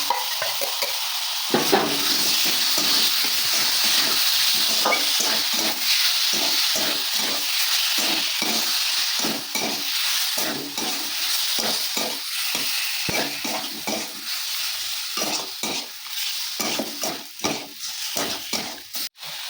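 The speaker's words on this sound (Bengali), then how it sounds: "এই যে বন্ধুরা, কড়াইটা গরম হয়ে গেছে," Chicken pieces fry in a hot wok for a chicken roll, a loud continuous sizzle broken by rhythmic scraping stirs throughout, with no talking over it.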